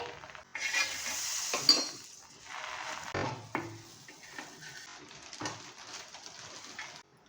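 Buttered sandwich bread toasts in a pan on a gas stove, giving quiet sizzling with intermittent scraping and tapping of the pan, fairly faint and close, with short pauses between bursts.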